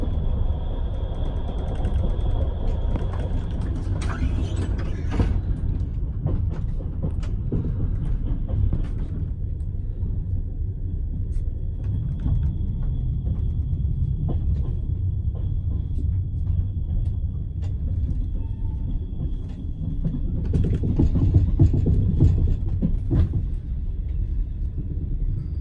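A Ukrainian sleeper train rolls through the suburbs into Lviv station, giving a steady low rumble that holds for the whole stretch and swells slightly near the end, with no voices.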